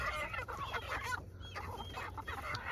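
Chickens cluck busily and close by in a continuous stream of short calls over a low background hum, with no one speaking.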